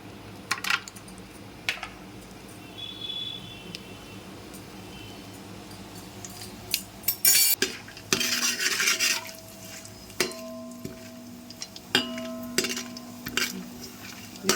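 Whole spices—cardamom pods, bay leaf, shahi jeera and cashews—stirred in hot ghee or oil for vegetable biryani, giving a soft steady sizzle broken by sporadic clinks and scrapes of a spoon against the pan, with no talking.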